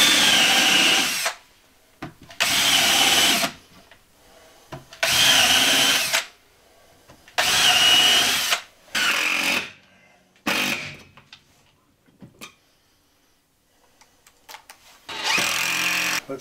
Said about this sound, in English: pre-drilling each one of these things makes it so that the wood doesn't split when you put the screw